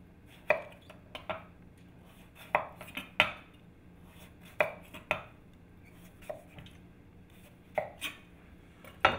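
A knife cuts through a butternut squash in sharp, irregular thunks against a cutting board, spaced a second or two apart, close and fairly quiet, with no voices.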